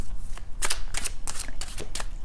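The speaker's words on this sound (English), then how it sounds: "I am shuffling the cards" Tarot cards being shuffled by hand, a quick series of crisp riffling bursts at an irregular rhythm, close and clear with no talking over them.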